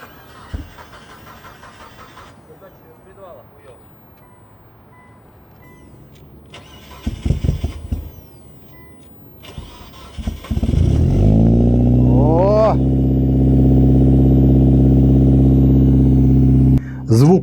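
An AWD turbo Dodge Stratus Coupe with a newly made exhaust using Chinese mufflers: faint clatter and clicks at first, then the engine cranks and fires, settling into a loud, deep, steady idle close by.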